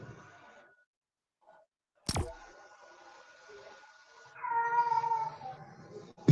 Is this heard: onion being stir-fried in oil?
no